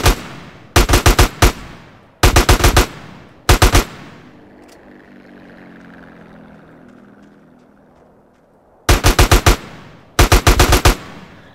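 Automatic gunfire from the GTA San Andreas Definitive Edition video game rattles in loud, rapid bursts of several shots each, separated by a stretch of engine-like rumble in between.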